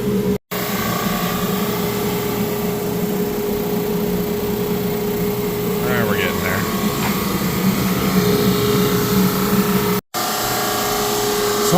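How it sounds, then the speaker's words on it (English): A power sander smooths wooden boards with a loud, steady motor drone that runs without a break apart from two very short dropouts. "So we are sanding these boards down to get them nice and smooth."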